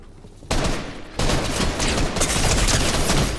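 Sustained video game gunfire erupts in dense, loud bursts of rapid automatic shots, pausing briefly before resuming as a continuous barrage.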